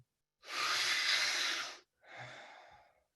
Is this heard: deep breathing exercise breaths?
yes